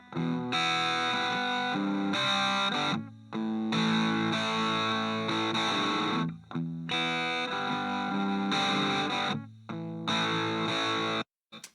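Distorted electric guitar played through a George Lynch speaker cabinet with JBL speakers, loud chord phrases with brief pauses between them, ringing, gritty and slightly nasal.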